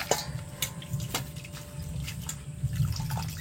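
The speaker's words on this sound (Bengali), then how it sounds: "বাঁধাকপি ধুয়ে তুলে নিচ্ছি" Tap water running as cabbage is washed, a close, moderate splashing stream with small clinks and drips against a sink.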